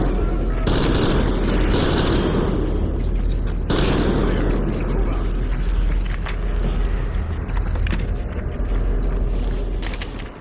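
Heavy gunfire and booming blasts from combat in the Metro Exodus The Two Colonels DLC, loud and dense, with big explosive hits near the start and around the four-second mark over a sustained crackle of shots.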